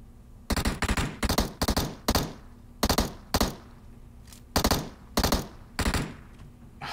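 Automatic M16 rifle gunfire in a video game comes in short, sharp bursts of several rounds, loud and close, separated by brief pauses across the whole stretch.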